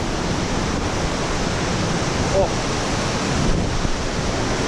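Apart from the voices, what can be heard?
waterfall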